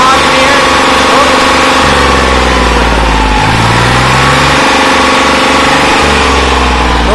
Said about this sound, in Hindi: और मैं अभी आपको इसकी रेस दिवा के दिखाता हूँ, इसके अंदर धुएं हुए की कोई समस्या नहीं है।